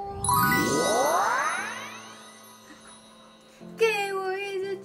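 A bright notification bell ding rings out near and loud with a long shimmering, sliding decay, followed by a short second chime burst at the end.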